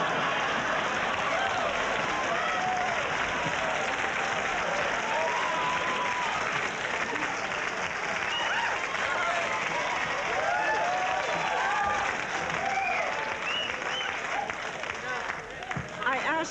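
Television studio audience applauding during a 1978 talk show interview, sustained crowd clapping mixed with murmurs and a voice talking over it, moderately loud and continuous.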